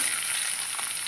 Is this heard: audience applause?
no